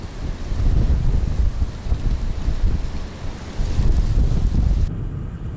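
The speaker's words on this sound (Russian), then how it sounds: "ветер внезапно прям поднялся, очень мощный" Strong wind gusting at a lakeside fishing spot, a loud rumbling buffet across the microphone with surging waves of force, no voices.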